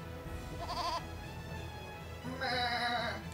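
A goat bleats twice in the Eternal Sonata video game, each cry a short wavering call, with the second one louder and longer, over a low background music bed.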